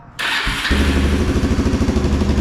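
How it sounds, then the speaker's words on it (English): A quad bike engine catches and runs close by, loud and steady with a rhythmic low putter that rises slightly after starting. "Great, looks like we've got a working quad bike"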